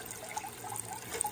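Water trickles steadily and faintly through a 3D-printed hydroponic tower garden, a soft continuous dribble heard alone at close range.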